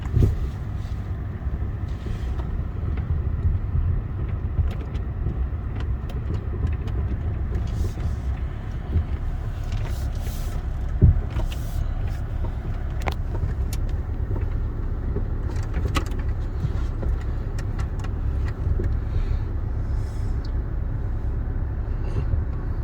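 A Land Rover creeps slowly down a steep off-road slope at the Solihull Land Rover Experience, its engine a steady low rumble throughout with occasional knocks and rattles from the cabin.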